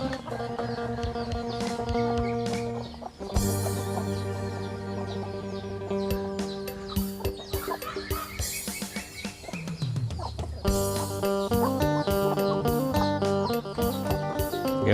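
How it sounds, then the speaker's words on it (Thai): Backyard village chickens, hens and chicks together, cluck and peep busily in a continuous jumble of calls close by, with no talk. "มีทั้งแม่ไก่ มีทั้งลูกไก่"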